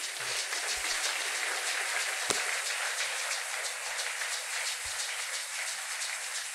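A church congregation claps together in steady, dense applause that carries on evenly throughout, with no voices standing out above it.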